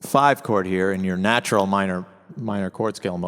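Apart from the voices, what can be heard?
None of the usual background noises is heard.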